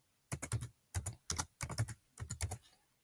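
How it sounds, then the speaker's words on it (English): A search is typed on a computer keyboard in five quick bursts of close, clicky keystrokes separated by short silent gaps, with no voice present. "And then you just press a space, and then you type what you want to search."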